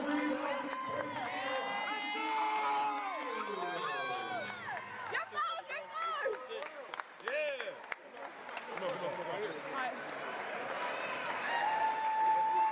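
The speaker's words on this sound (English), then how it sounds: "Come on, crowd, give this fellow Hines a beautiful round of applause." A basketball crowd at a Grind Session World Championship game cheers and claps beneath a loud announcer, with the applause rising in waves and swelling toward the end.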